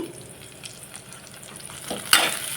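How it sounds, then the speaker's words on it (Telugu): Onions fry in a pan for a gongura dried-prawn curry, a low, steady sizzle with faint stirring, ending in a louder burst of spatula scraping. "ఆల్మోస్ట్ ఇక్కడ ఉల్లిపాయలు కూడా వేగిపోయాయి"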